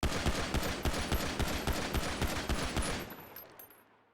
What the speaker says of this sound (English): when I fire my weapon